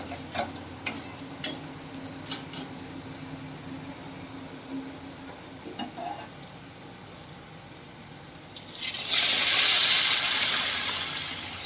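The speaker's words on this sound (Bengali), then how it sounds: "এবার আমি গরম জলটা দিয়ে দেবো" Duck egg curry cooks in a pan with scattered scraping clicks from stirring, then hot water is poured in, bursting into a loud, sustained hiss and sizzle that fills the last few seconds.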